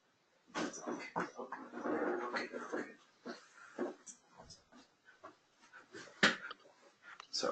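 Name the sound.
dog having a seizure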